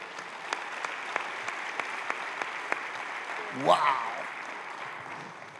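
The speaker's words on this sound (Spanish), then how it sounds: "Dale otro aplauso al Señor." Congregation applauding during a Christmas church service, a steady spread of clapping with a voice calling out briefly over it.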